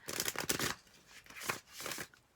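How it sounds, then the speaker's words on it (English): A tarot deck is shuffled by hand in a quiet room, giving several short, soft riffling bursts separated by brief pauses, close and fairly faint. "So just gonna shuffle with these intentions here."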